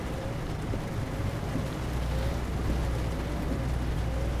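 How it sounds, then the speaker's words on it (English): Rain in Euro Truck Simulator 2 while driving a truck: a steady wash of patter and hiss over a low engine rumble, constant and moderately quiet, with no talking. "And the rain doesn't help either."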